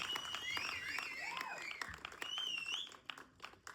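An audience at a short film celebrity review event applauds with soft, scattered clapping, under loud shrill whistles and cheering voices in a hall.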